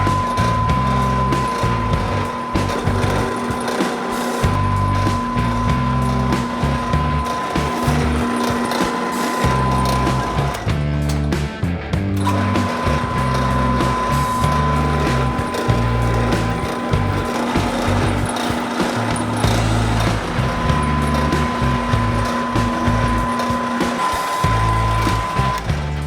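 A drill bores bolt holes into a carburetor intake manifold for a 4150 or spreadbore carb conversion, a loud steady whine running continuously with brief dips, nearly unbroken for the whole stretch.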